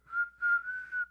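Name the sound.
person whistling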